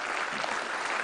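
A brief burst of audience applause in the MPR annual session hall, dense and even clapping filling the whole moment at a steady, moderate level.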